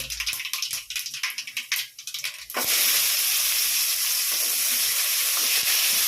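Onions and garlic cloves dropped into hot oil in a pan for a kuzhambu, giving a sudden loud burst of steady sizzling and hissing that continues close up after a few soft clatters.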